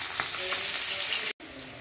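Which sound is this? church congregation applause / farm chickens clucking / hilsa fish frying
hilsa fish frying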